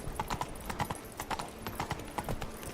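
Hooves of Roach, a horse in The Witcher game, clip-clopping in a steady walking rhythm, close and clear.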